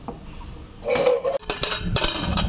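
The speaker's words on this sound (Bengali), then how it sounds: "কুকারের ঢাকনা আমি দিয়ে দিলাম।" A pressure cooker lid is set on and fitted over a pot of dal, giving a few loud metallic clanks and scrapes in quick succession, close up and with no talking.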